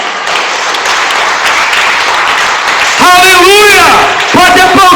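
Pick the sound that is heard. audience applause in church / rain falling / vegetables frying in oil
audience applause in church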